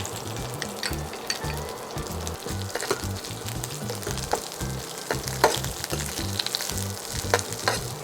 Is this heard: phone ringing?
no